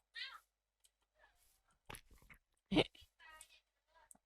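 Several short cat meows from Minecraft during a SkyBlock survival game, scattered between quiet gaps with a couple of stronger bursts, fairly close and clear.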